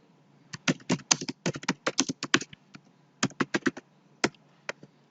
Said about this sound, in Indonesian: Ya, kita ketik dulu.